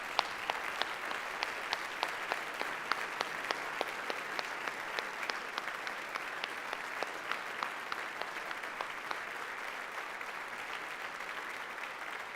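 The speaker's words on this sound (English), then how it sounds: "give these great six citizens another round of applause" A standing audience at a city address in a performing arts center gives a long round of applause, even and sustained with crisp individual claps standing out, alone without speech.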